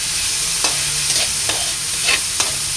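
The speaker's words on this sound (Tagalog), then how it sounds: "ilagay natin ang kamatis" Chopped tomatoes go into a pan of sayote and sotanghon frying in oil, a continuous loud sizzle broken by a few light scrapes of the spatula as it is stirred, with no one talking.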